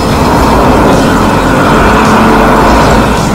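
A car with a French engine drones steadily on a moorland road, a loud, unbroken, wearisome engine noise filling the whole stretch with no pauses or talking.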